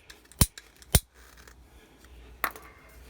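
A squeeze-handle cutter snaps through 21.5mm plastic overflow pipe in three sharp, close clicks, two in quick succession and a third after a pause, with quiet rustling between.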